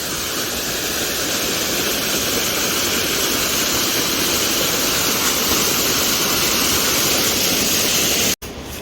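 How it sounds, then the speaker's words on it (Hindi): Fast mountain stream water rushing loudly and steadily along a steep Kedarnath trek route, a dense continuous roar close by that cuts out briefly near the end. "देखो कितनी तेज़ पानी आ रहा है।"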